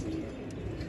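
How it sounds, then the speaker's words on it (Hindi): Breeder pigeons in a rooftop loft cooing softly and continuously, close by, with a low murmuring drone and no talk. "ये सारे ब्रीडर कबूतर हैं।"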